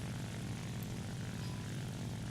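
A Ki-84 propeller fighter's piston engine in War Thunder gameplay drones steadily and loudly throughout, a continuous low roar with broadband airflow noise and no talk.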